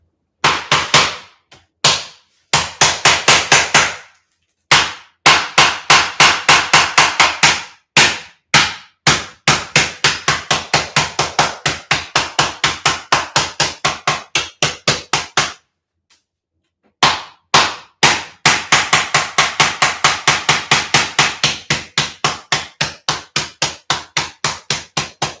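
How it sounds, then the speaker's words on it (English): A hammer pounds peppermint candy into powder on a cutting board, rapid sharp loud blows repeated in long steady runs with a few brief pauses, very close. "And you just want to hammer it, but make sure you don't hammer your fingers."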